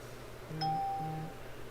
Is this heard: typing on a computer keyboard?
no